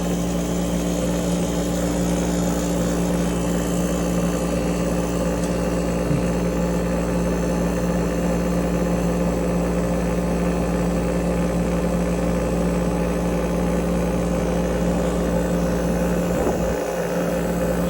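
Air conditioner compressor running steadily while it builds pressure on a system low on refrigerant: a loud, constant mechanical hum with strong tonal whine layered over rumble, close and unchanging for the whole stretch, with no talking.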